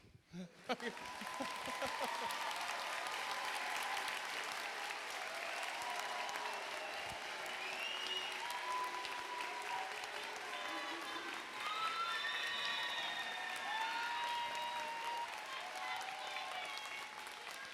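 Graduation audience at a college fall commencement clapping steadily and continuously, a dense wash of applause with scattered cheers filling the hall.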